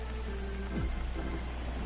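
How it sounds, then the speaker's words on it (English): Steady rain pours down in MLB The Show 22 during a baseball game, a dense continuous hiss with a low rumble throughout and no talk over it. "Rain is really coming down."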